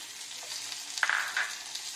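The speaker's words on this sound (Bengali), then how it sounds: "এবার আমি টমেটোটা কাটা ছিল দিয়ে দিলাম।" Chopped tomato dropped into onions frying in a pan, a steady close sizzle with a few sharper crackles and soft stirring scrapes.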